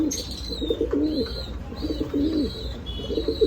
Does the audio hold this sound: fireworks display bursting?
no